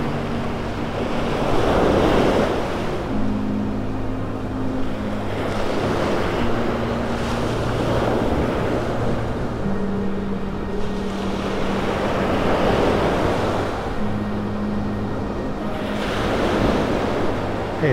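Ocean waves wash onto the beach at North Naples, Florida, early on a quiet morning. Steady surf roars in repeated swells, with gusts of wind buffeting the microphone and no voices.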